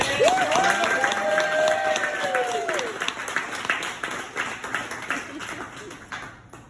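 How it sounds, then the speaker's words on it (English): An audience bursts into loud, sustained applause that gradually thins out, with a few whoops and a tonal sweep early on. "Round of applause for Sean Bishop."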